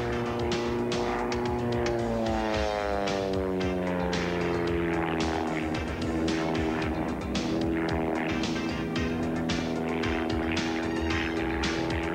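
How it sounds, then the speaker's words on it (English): Pitts Special biplane engine and propeller roaring through aerobatic manoeuvres at an airshow, steady and loud throughout with a sweeping Doppler-like pitch shift as it passes and climbs, no talk. "The plane he is flying is a Pit Special."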